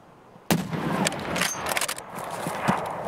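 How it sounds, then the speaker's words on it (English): A flashbang grenade goes off in a first-person shooter: a sudden sharp bang followed by a loud, ringing wash of noise with scattered crackles and thumps lasting a few seconds. "Throwing a flashbang."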